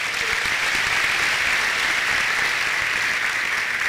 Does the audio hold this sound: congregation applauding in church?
yes